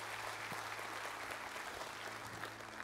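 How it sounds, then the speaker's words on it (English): A church congregation claps after a prayer, a soft, distant wash of hands with a low steady hum underneath. "Can we give a good hand clap to all those who prayed that prayer?"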